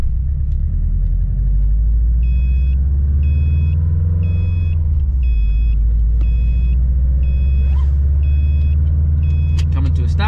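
An 08+ Subaru STI drives slowly around a residential block with a fuel pressure regulator kit fitted. The engine drones steadily and loudly throughout, a short repeating beep sounds in the background, and someone talks over it.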